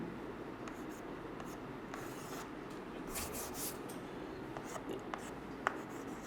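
Marker or chalk scratching on a board during a chemistry lesson, a steady soft scribbling texture with brief strokes and taps, faint and close, with no talk over it.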